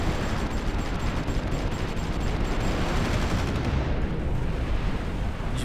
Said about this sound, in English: I hear subs firing at something.